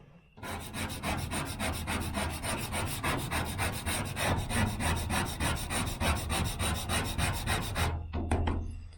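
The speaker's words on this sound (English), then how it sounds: "I'm just going to scrape it all off because I'm afraid that's just embedded rust" Embedded rust being scraped off the metal body of a 1978 Nova hot rod, a fast, steady run of rhythmic rasping strokes close by that lasts several seconds before stopping abruptly, followed by a few brief scrapes.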